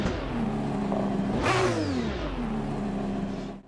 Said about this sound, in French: je vous laisse écouter ce moteur